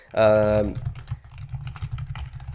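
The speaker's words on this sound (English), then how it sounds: "I'm just typing in as well. That's why you'll see the typing noise." Brief voiced sound, then a run of quick, light key clicks, irregular and close by.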